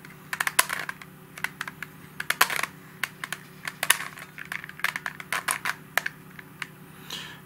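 A corner-cutting helicopter twisty puzzle is scrambled by hand, producing rapid, irregular plastic clicks and clacks in close succession, fairly quiet and near, with no talking.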